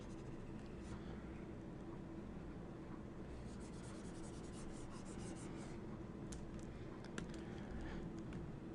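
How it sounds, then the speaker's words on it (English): A board is erased with quick rubbing strokes, soft bursts of scrubbing over a constant low background hum, quiet and without talk. "Let me go ahead and erase this."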